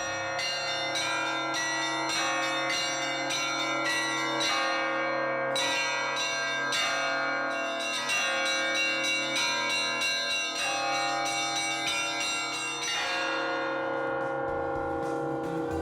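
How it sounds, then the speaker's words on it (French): The ten bells of Saint-Nicolas cathedral in Nice are rung by hand, a dense, continuous peal of overlapping ringing strikes with rich lingering tones, steady and fairly distant, with no voices. "avant chaque messe, fait sonner les 10 cloches de la cathédrale,"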